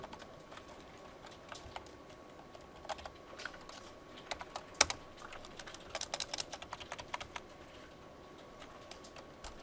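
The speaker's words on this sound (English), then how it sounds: "let's type in some numbers" Numbers being typed on a computer keyboard, a faint scatter of quick, irregular key clicks in short bursts, close by and otherwise quiet.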